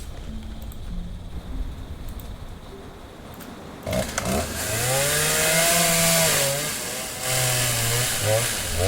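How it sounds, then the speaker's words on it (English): In a video game, a faint idle gives way to a chainsaw roaring to life, its engine revving up and down loudly in rising and falling surges. "Oh, a chainsaw. Perfect."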